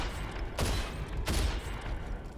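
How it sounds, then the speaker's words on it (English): Two loud gunshots crack out about half a second apart in the video game RAGE as a wine bottle is shot, each a sharp burst over a steady rumbling game background. "Wine bottle. Supposed to shoot this."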